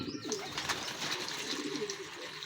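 Racing pigeons back home after a training lap coo softly and repeatedly at close range over a steady background hiss.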